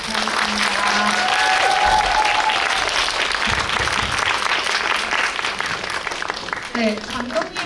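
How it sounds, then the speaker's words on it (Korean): A cinema audience at a post-screening talk in a CGV theater applauds as the director and actors leave, a sustained loud wash of clapping with a few voices mixed in beneath it. "감독님, 배우님들 퇴장하실 때까지 한 번만 더 박수로 보내주시면 감사하겠습니다."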